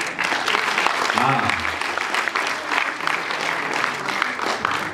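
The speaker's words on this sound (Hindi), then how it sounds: "तालियों में मजा नहीं आया थोड़ा" Applause from the audience at a golden jubilee musical evening, a sustained wash of clapping throughout, with a brief voice and some crowd noise mixed in.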